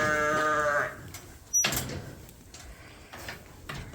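Ewes bleating on a sheep farm during sorting: one loud, close, wavering bleat opens, followed by metallic gate clatter and scattered knocks as the flock is handled.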